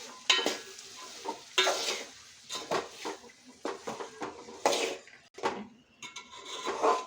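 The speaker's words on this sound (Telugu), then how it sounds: "ఇప్పుడు సాల్ట్, ఇప్పుడు కలిపేసుకోవాలి." A spoon stirs salt into a broad bean and tomato curry in a pot, with repeated close scraping and clinking against the metal over a faint sizzle and no voices.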